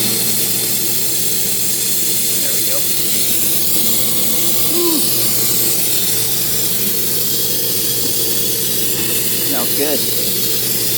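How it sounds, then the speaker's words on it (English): Hot steam hissing from an Instant Pot quick release while cooking country-style pork ribs, a steady loud continuous hiss under a towel, with a person speaking briefly over it. "But that steam coming out of there is really hot."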